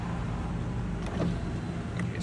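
Power window on a Honda Accord or Acura TL being rolled down, a steady whirring motor hum for a couple of seconds, close and alone.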